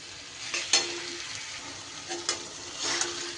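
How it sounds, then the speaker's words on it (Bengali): Hilsa fish and taro (mankochu) being sautéed with spices in a pan: a low, steady sizzle broken by a few short scraping bursts of stirring, with no talking. "খুব ভালো করে মশলার সাথে সব কিছু কষিয়ে নিতে হবে"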